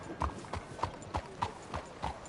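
Horse hooves clip-clop at a steady walking pace in Red Dead Redemption 2, about eight even, close hoofbeats across open ground with nothing else beside them.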